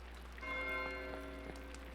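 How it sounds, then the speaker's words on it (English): A church bell rings in the video game Pentiment, a sustained metallic tone with strikes recurring about every third of a second over a low steady hum, moderately loud and with no talking. "The bell is ringing."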